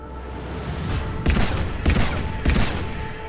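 Three loud, evenly spaced gunshot blasts from Mass Effect 3, each a sharp broadband crack with a short tail, firing over a steady low game hum.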